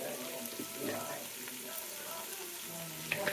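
Fenugreek leaves, curry leaves, green chillies and onion fry in oil with a soft, steady sizzle and crackle, faint and close, with a few light spatters near the end.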